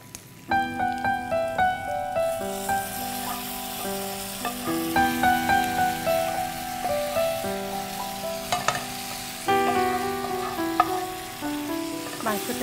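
Thickly cut onions sizzle and crackle in a pan as meat goes in, a steady frying hiss with occasional stirring, under background music.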